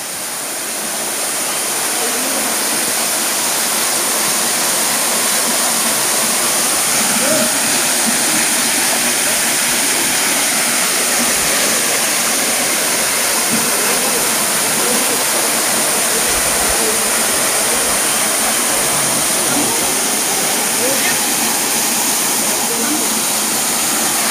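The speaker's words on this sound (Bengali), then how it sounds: "এটাতে বর্ষাকালে অনেক বেশি জল থাকে, এখন জলের স্রোত একটু কম" Sitakund waterfall in Similipal, running with reduced flow in the dry season, pours out a loud, unbroken broadband roar of rushing water that stays steady and close throughout.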